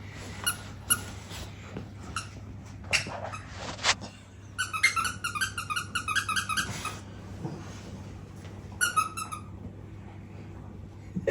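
A squeaky dog toy is chewed by dogs at a family Christmas gathering, giving bursts of rapid, high squeaks in clusters between quieter rustles and thumps, close by, no talking.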